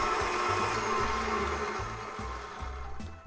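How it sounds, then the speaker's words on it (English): An electric mixer whisks custard mixture with a steady close whir that pulses in quick repeated bursts, with no voices. "I'm going to want to whisk again"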